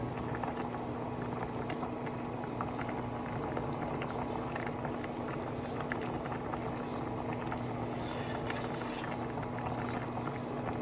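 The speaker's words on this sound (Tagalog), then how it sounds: "Tatakpan ko lang siya ng 30 seconds para mas madaling kumulo at madaling maluto yung dahon ng malunggay." Tinola soup with malunggay leaves boiling in a covered pot, a dense continuous bubbling rumble and hiss at steady volume with no talking.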